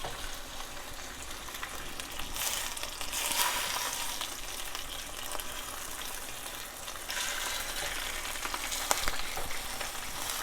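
Pork chops sizzling steadily in a hot frying pan, a continuous crackling hiss that swells louder in a couple of bursts as pieces are pressed into place.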